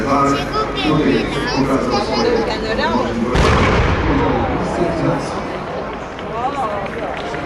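A loud cannon salute booms from a sailing ship amid crowd noise and chatter at the Baltic Sail Gdańsk 2013 tall ship parade on the Motława, its rumble lingering over an ongoing outdoor din.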